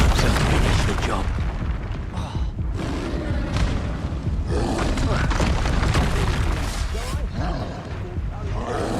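Spell explosions in Hogwarts Legacy, with dense, booming, rumbling blasts and crashes filling the whole stretch, loud and close, with speech-like sounds mixed into the din.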